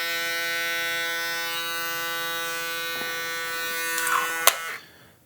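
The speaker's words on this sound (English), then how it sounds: "it is the Foil FX2 shaver, the dual head shaver" A Babyliss FoilFX02 dual head electric foil shaver runs with a steady high-pitched motor buzz, then clicks off and winds down to silence near the end.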